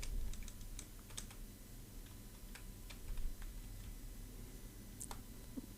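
Someone types rapidly on a computer keyboard while entering a password into a Microsoft Access login form. The keys clatter steadily and nearby over a soft background hum.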